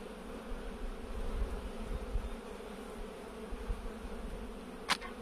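Honeybees buzz in a steady, dense hum from an opened beehive during an inspection, a continuous close drone with no talk.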